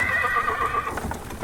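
A horse gives a loud, wavering whinny up close, followed by a few soft hoof clops, in a horse-and-wagon sound effect from an audiobook.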